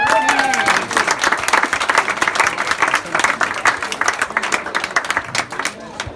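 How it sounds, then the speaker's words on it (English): A youth football team's presentation evening, with the audience applauding an under-10s goalkeeper: dense, lively clapping from a roomful of people that holds steady for several seconds, then thins slightly toward the end. "So please give a round of applause to Ashton."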